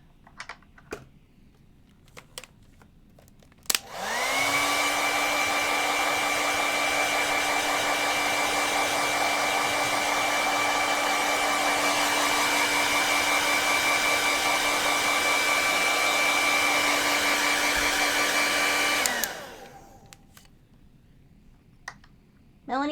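A hair dryer runs steadily for about fifteen seconds, blowing on a painted powder blue tang fish sculpture to dry the paint, with a loud even whir and a high motor whine that switches on and off abruptly.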